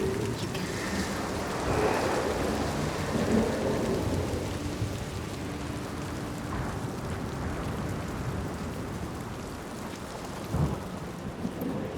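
Storm in the video game Senua's Saga: Hellblade 2, with steady heavy rain and deep rolling thunder that swells and fades throughout, plus a sharper thunder crack near the end, loud and continuous with no talk.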